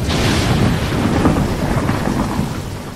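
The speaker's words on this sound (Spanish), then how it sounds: "Tormenta." A thunderstorm ability effect in the Marvel Puzzle Quest video game, a loud, continuous rumbling wash like thunder and heavy rain, steady throughout with no talk.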